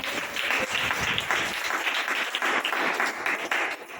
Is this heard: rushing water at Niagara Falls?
no